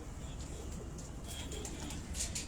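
Large-bodied flying pigeons coo softly and repeatedly at close range, a steady low throaty burble with faint bird chirps above it and no speech over it.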